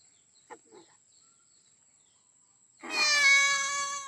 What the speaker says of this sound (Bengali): বিড়ালটা তো এসেছে মাছ খেতে